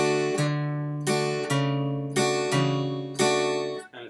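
Acoustic guitar playing a blues ending, a low bass note struck with the upper strings brushed, repeated about five times in a steady rhythm, bright and close, with no voices.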